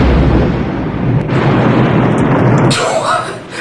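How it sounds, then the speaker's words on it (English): A grenade blowing up the shark in Jaws 3, a loud rumbling blast with a deep boom that rolls on for a few seconds before cutting to a brighter, thinner noise near the end. "Quaid uses it to blow up the shark for good"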